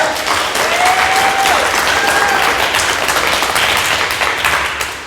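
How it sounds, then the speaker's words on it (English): A crowd at an environmental talk about Tule elk and the Point Reyes Seashore breaks into loud, steady applause that fills several seconds. A few faint whistles rise above the clapping. "I hear an applause coming"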